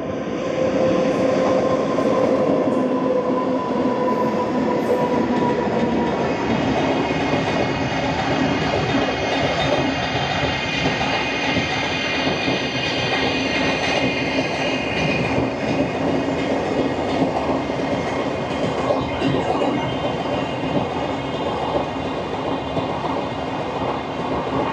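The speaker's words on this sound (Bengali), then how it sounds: "ট্রেন নয়, মালগাড়ি আসছে, তাও 3টে WAG 9 দিয়ে।" A freight train hauled by three WAG 9 electric locomotives passing in India, a loud continuous roar and rumble of wagons with rhythmic clatter and faint squealing wheels, steady throughout.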